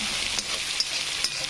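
A chopped tomato fries in a pan for a potato dish, a steady close sizzle with faint crackles and a few soft stirring taps.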